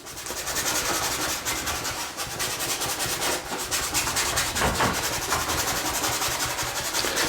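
A bristle brush scrubs a thin layer of oil over the clouds of an oil painting, giving a steady, close, dry rubbing and scratching that runs without pause.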